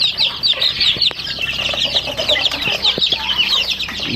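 Rhode Island Red and native chickens share a pen, clucking and squawking together in a busy, overlapping chorus, with an occasional brief flap of wings close by.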